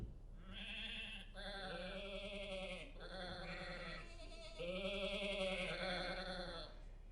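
Sheep bleating on a farm near a barn, a chorus of several wavering, sustained bleats that overlap and follow one another for several seconds, fairly loud and close with no talking.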